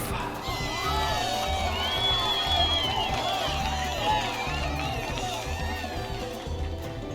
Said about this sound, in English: let us conclude by giving one more round of applause to our first place fashionistas, Marabel and Lilith.